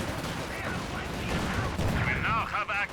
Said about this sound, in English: Panzerfaust, I think, is firing